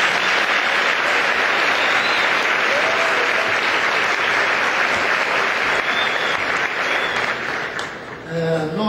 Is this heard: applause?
yes